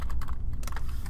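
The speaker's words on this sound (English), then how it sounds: "So I'm going to type that in here." Quick bursts of keystrokes on a computer keyboard as an IP address is typed in, a rapid irregular clatter of about a dozen key taps, close and fairly loud.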